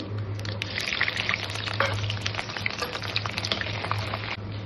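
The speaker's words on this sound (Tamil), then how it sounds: "பூண்டு நல்லா டீப் ஃப்ரை ஆன உடனே ஆனியன் போடணும்" Garlic deep-fries in hot oil with mustard seeds and fenugreek for a fish gravy, giving a steady, close sizzle and crackle with small pops throughout.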